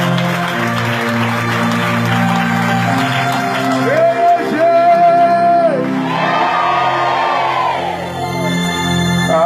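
A church congregation acclaims and cheers for Jesus with loud, sustained crowd shouting and whooping over music, a dense continuous roar throughout.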